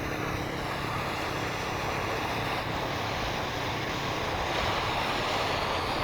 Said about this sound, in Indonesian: Anginnya kencang sekali guys.